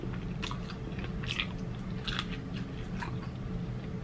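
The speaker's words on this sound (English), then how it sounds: "I like to chew on the wings." Close-up crunching and chewing of crispy sweet chili chicken wings, with irregular crisp bites and wet mastication sounds repeating over a few seconds.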